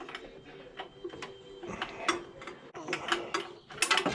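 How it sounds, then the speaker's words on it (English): A socket wrench turns the crankshaft bolt on a 1976 Ford Cobra II engine, giving irregular ratcheting clicks and metallic ticks at close range, fairly quiet, with occasional scraping between them. "I'm taking the socket and I'm putting it on the bolt, the nut, the bolt head on the end of the crankshaft"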